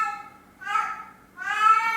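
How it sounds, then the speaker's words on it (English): A house cat meows loudly twice, two drawn-out, close meows separated by a brief pause, with no talking. "That is my cat being very loud."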